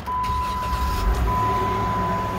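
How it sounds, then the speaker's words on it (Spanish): A Jeep Wrangler with its check-engine light on, reported to shake at times, idles steadily and close by as a low, continuous engine rumble with a faint whine above it, with no talk. "Vamos a encender el auto."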